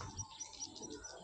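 Faint, rapid chirps from many swiftlets at a swiftlet farm, repeating in a steady rhythm from a distance, with no talking.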